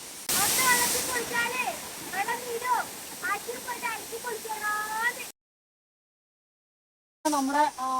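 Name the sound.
waterfall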